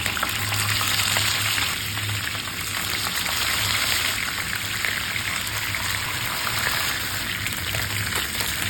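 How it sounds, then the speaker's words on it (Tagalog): Tulingan fish frying in a pan of reused cooking oil, a steady dense sizzle with crackling spatter and a faint low hum, close and continuous with no talk. "Dito sa ating kawali, maglagay tayo ng used oil. Prituhin muna natin yung ating tulingang isda."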